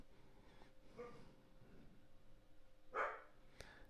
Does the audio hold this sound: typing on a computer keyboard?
no